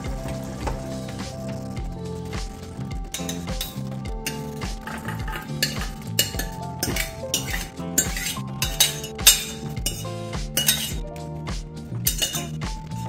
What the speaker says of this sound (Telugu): ఇప్పుడు దీన్ని బౌల్లోకి మార్చేసుకుందాం.